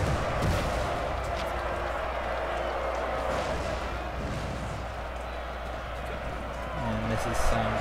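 Artillery fire and cannonball explosions from a Napoleonic-era battle in the strategy game Napoleon Total War, a dense continuous roar of battle noise with scattered booms, heard under steady commentary from a player.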